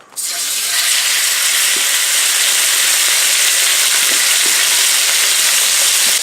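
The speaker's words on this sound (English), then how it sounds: "then we are stir frying" Food for jjajangmyeon black bean sauce stir-fries loudly and continuously in hot oil, a dense crackling hiss up close, with occasional faint clinks of stirring.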